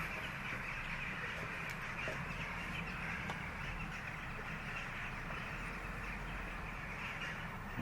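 A large flock of about 30,000 wintering rooks and jackdaws calls continuously in the distance over a park in Radom, a dense chattering din of cawing with no pauses, steady and loud throughout.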